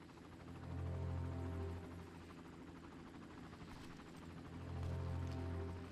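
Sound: helicopter in the video game Far Cry

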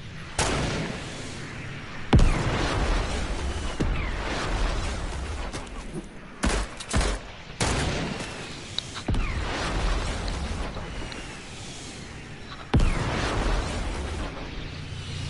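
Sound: rocket launcher explosions and gunfire in a video game

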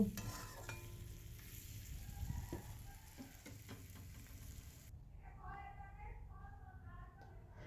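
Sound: stirring spicy ash gourd fry with sugar in pan

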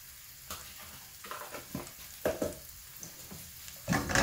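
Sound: king prawns stirred while frying in hot pan with olive oil

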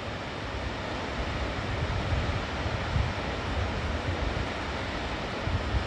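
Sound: waterfall, water falling from a great height

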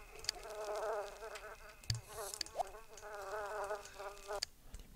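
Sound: flies buzzing in The Sims video game

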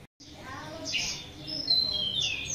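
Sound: cucak kinoy songbird singing

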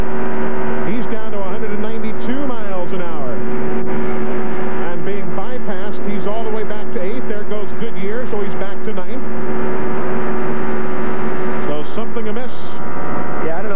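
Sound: onboard Indy Racing League car engine at full throttle

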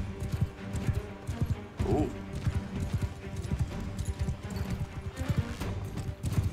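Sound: horse hooves galloping in the video game Mount & Blade 2: Bannerlord

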